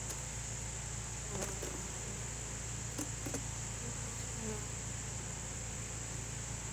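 Continuous low buzzing of honey bees close by, a constant drone interrupted by a few brief clicks and knocks.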